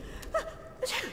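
A single quick sneeze from a character in the video game Dishonored: Definitive Edition, fairly soft, with a short gasp-like intake, set against a quiet background.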